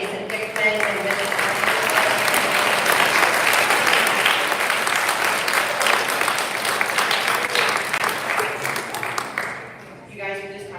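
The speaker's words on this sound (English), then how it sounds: "Let's give a round of applause for Rob Murray, Jason Hickman, and Vince." Sustained audience applause fills a senior awards ceremony hall, loud and dense throughout, fading toward the end as a few voices emerge.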